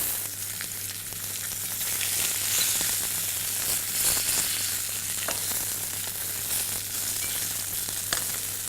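Salmon pan-frying on its sides with the skin crisping, a dense, loud, steady sizzle with a constant low hum beneath and a few faint pops, close up and free of speech.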